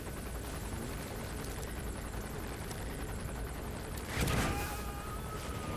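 Helicopter in the video game Metal Gear Solid V: The Phantom Pain, a steady rotor and engine drone filling the whole clip, with a brief louder swell near the end and no talk.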